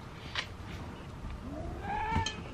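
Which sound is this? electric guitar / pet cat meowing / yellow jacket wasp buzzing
pet cat meowing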